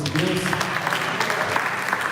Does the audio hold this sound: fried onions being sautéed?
no